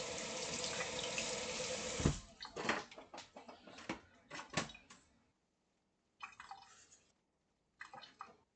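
Kitchen tap water running steadily while food is washed in a sink, then broken splashes and drips as the flow is interrupted, with brief bursts of water resuming; fairly quiet and close, no talking.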